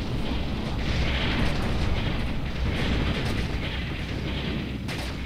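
Heavy cannon fire and rumbling explosions in the Ground Control strategy game, a dense, continuous roar of low booms and blasts with sharper bursts near the end, no voices over it.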